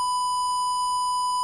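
A DumboRC bargain brushed micro RC ESC sounds its low-voltage buzzer alarm: one steady, loud, pure tone held for the whole moment, with no talking.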